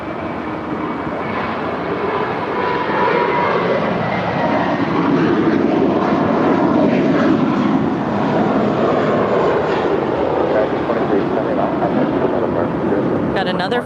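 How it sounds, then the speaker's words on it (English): An American Airlines Airbus A321 airliner, six years old, bound for Cabo, roars steadily nearby as a loud, swelling jet rumble that builds and holds across the stretch. "Got another flight to Cabo. American 2379. Going to SJD. It's an A321, 6 years old."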